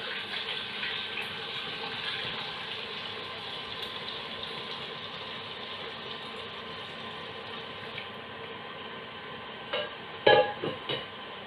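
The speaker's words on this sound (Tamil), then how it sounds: "இப்போ எங்களோட வாட்டர் ஃபேஸ் இங்கே அதை ஆட் பண்ணுங்க" A steady, continuous hiss of liquid as the water phase is poured into a homemade moisturising body cream mixture, ending in a few sharp knocks and clatters, with no talking.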